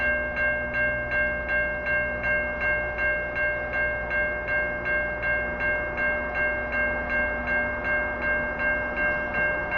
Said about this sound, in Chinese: 看一看这个火车啊从那边过去的样子